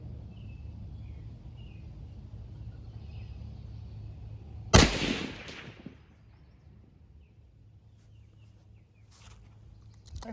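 A single sharp gunshot from a T/C Super 14 .30 Herrett rifle fired outdoors, one loud crack with a short echoing decay, preceded and followed by quiet ambient hum.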